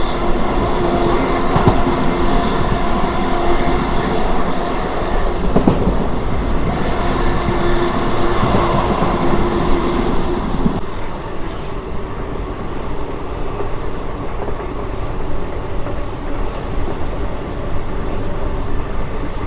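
Narsapur Nagarsol Express train rolling along the rails, a loud continuous rumble with wheel clatter and rattling carriages heard close up for the whole stretch.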